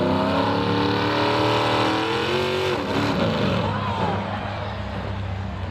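A pulling truck's engine roars at full throttle at a truck and tractor pull, a loud sustained droning howl that holds steady before its pitch slides and wavers toward the end.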